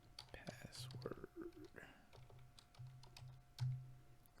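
Keys clatter on a computer keyboard in short irregular bursts, close and fairly quiet, with brief soft sounds between the runs of typing.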